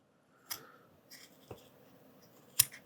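Scissors snipping through a glove finger, a few separate crisp cuts spaced about a second apart, close and quiet in an otherwise still room.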